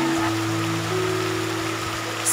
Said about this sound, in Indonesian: kerana tiba-tiba saja hujan